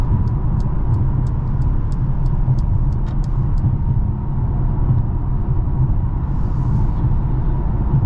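A 2023 Mercedes GLA 35 AMG with 302 horsepower drives along the road, its engine and road noise a steady, loud, continuous rumble with a few faint ticking clicks early on.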